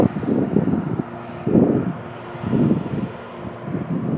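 Gusty wind buffets the microphone at an old early-1900s railroad truss bridge, coming in low rumbling surges about once a second.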